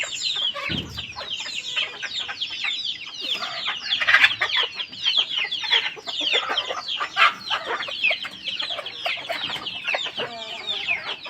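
A dense chorus of hens clucking and squawking with roosters calling among them, loud and continuous throughout, with no talking, in the Konkan countryside.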